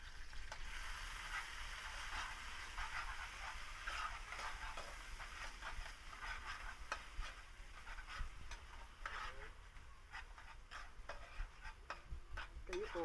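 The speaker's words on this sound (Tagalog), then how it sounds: "Siya ihalo ko sa chop suey." Corned beef being stirred into chop suey in a pan, with a soft steady sizzle and repeated scraping strokes of the spatula at a fairly quiet level, no voices.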